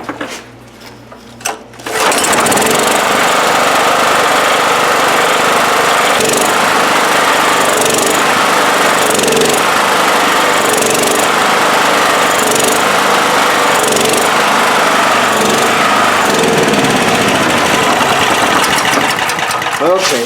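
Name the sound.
Honda EB5000 generator engine running after a no-start fix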